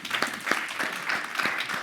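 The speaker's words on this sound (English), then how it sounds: "Let's give him a round of applause." Audience applause at a health policy keynote event, a short burst of steady clapping from a crowd in a hall, moderately loud and without a clear beginning or end.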